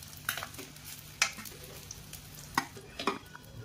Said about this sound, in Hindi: बढ़िया से फ्राई हो रहे हैं ये